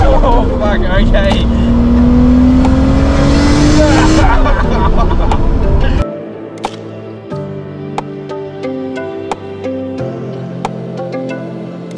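Toyota Supra tuned to 600 horsepower, heard from the passenger seat as the engine roars hard under acceleration with rising revs, then drops to a lower, uneven drone with sharp knocks and cabin noise.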